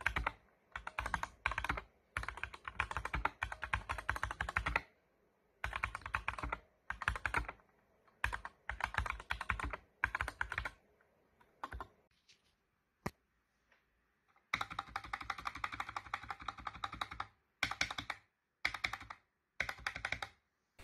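Rapid bursts of typing on a mechanical keyboard fitted with optical red linear switches, clattering in dense runs separated by short pauses, close and clear with no talking.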